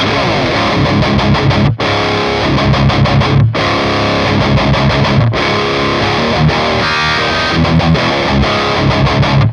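Loud distorted electric guitar through an amp's lead 1 channel with the mid switch on, a crunchy high-gain tone, chugging riffs broken by two brief pauses, played alone.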